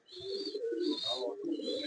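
A four-year-old male racing pigeon in a loft gives soft, close cooing calls in a few rolling phrases with brief pauses between them, heard alone.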